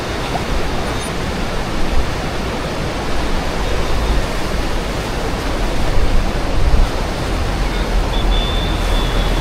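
Steady, dense rushing of fast-flowing floodwater, a constant broadband roar with no pauses or voices.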